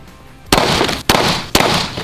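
Three sharp, loud shots fired into a stack of paper sheets ring out about half a second apart, each a hard crack trailed by a sustained noisy wash, close and with no voices.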